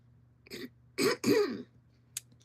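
A person with allergies clears their throat indoors, one short rasp followed by two stronger, gravelly throat-clearing bursts, close and fairly loud over a quiet low hum.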